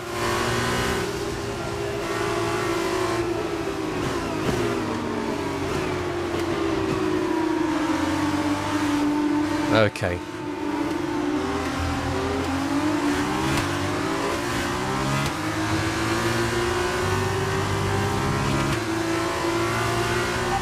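Formula 2 race car engine from the F1 22 racing game at Sakhir, droning steadily at mid revs with rising and falling pitch through a lap, loud and continuous, with one brief spoken word over it.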